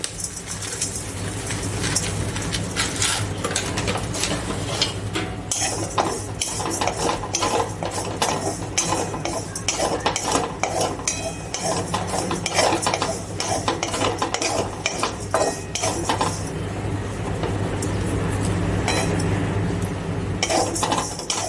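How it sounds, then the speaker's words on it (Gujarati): Oats roast in a pan over a low gas flame, stirred with a utensil that scrapes and clinks against the metal in a steady, repeated rhythm, with faint sizzling underneath and no voices. "હવે આપણે એમાં ઓટ્સ શેકીશું એકદમ સ્લો ગેસ રાખી"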